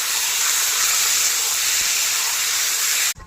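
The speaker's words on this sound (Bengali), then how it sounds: "এবার ভালো করে মাংস কষিয়ে নেব" Chicken browning with spices in a pan for a Bengali mocha dish, a steady loud hiss of sizzling oil that runs unbroken for about three seconds, then cuts off abruptly.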